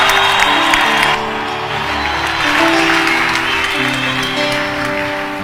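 A church congregation claps steadily in a loud, continuous wash of applause, with some cheering and voices mixed in.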